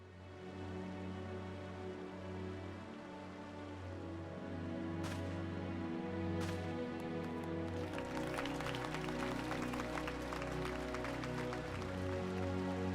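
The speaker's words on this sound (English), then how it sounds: "Like you joined and now everybody's clapping" A crowd applauds during a Final Fantasy XIV cutscene welcoming a new private into the Immortal Flames. Steady clapping swells in over orchestral music and continues loud to the end.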